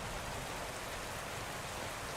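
Steady rain falls on a surface as a continuous broadband hiss with dense pattering drops, even and unbroken throughout, with no voices.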